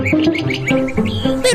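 A bird sings cheerfully up close, a loud, rapid series of bright chirps and warbled notes with no pauses.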